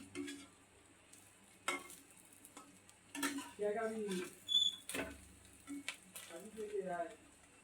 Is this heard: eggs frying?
yes